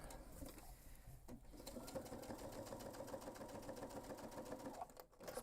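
A sewing machine basts along the edge of a backpack panel within the seam allowance, its needle running in a steady fast rhythm close by, briefly pausing and restarting near the end.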